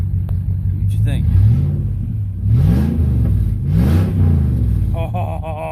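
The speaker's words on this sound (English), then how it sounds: "I'll give her a few revs here." A V8 pickup truck engine revved up in three loud swelling bursts, each rising and falling back to a rumbling idle, heard close by.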